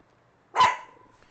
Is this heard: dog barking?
yes